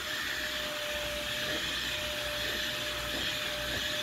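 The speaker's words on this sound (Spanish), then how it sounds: "Quiero aspirar los sillones" A vacuum cleaner running on sofa cushions, a steady loud whine and airy hiss held constant throughout, close by.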